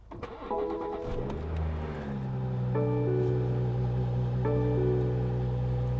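A 2017 BMW engine cranks and catches, then settles into a steady, smooth idle with a clear whine and a slight rise in pitch partway through, heard close up with no talking over it.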